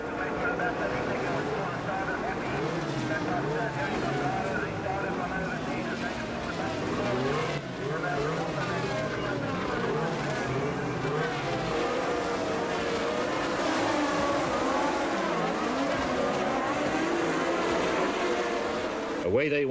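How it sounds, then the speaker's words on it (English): Formula One turbo race cars of the 1982 season, led by two Renaults, two Ferraris and two Brabhams, roar away from the start at altitude, a dense sustained engine blare with a commentator talking over it throughout. "Away they went with the 6 turbo cars in the lead, 2 Renaults, 2 Ferraris, 2 Brabhams"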